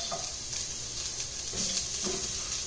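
Veal paupiettes browning in a hot pan give a steady, close sizzle and frying hiss throughout, with faint stirring and tossing movements underneath.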